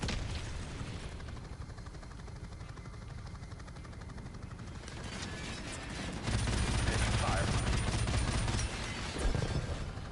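Sustained automatic gunfire from a heavy weapon in Call of Duty 4: Modern Warfare Remastered, a dense, continuous rattle that swells louder partway through amid battle noise.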